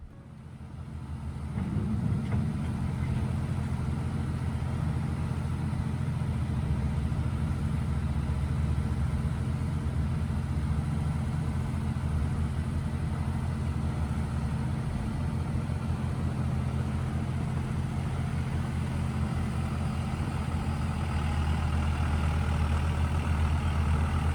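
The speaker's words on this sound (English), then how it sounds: "Let's take a moment and listen to the sounds that our tractor makes doing this job." A farm tractor engine runs steadily while piling hay onto corn silage, a loud, continuous mid-pitched drone with a low rumble that holds almost unchanged throughout after a brief start.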